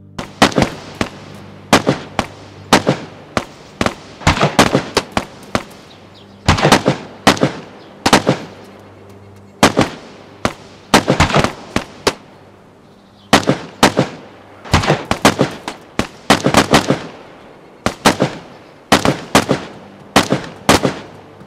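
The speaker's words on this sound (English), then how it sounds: "many of the guns, if not all of the guns, have new game sounds" Rapid bursts of DayZ video game gunfire in uneven clusters, sharp cracking shots with short gaps between volleys, loud and close with no talking.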